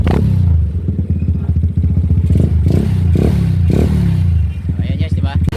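A Yamaha Mio Sporty scooter engine fitted with an aftermarket exhaust pipe idles and blips loudly up close, with a steady low drone and several short throttle bursts, while people talk over it.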